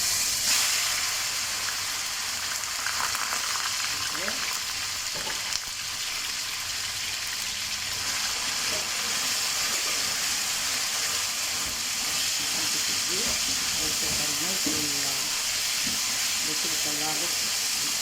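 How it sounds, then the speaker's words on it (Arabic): Chicken pieces searing in a pan of caramelizing sugar over high heat for fajitas, a constant loud sizzling hiss with occasional crackles and utensil clicks, a voice talking faintly underneath. "بعد كده هحط الفراخ تتكرمل"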